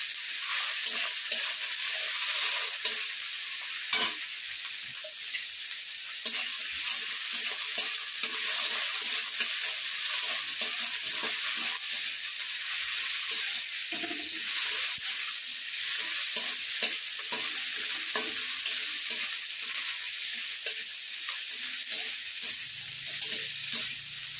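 Ginger paste being stir-fried in a pan, a continuous bright sizzle broken by frequent rhythmic spatula scrapes and stirring knocks, close and even in level.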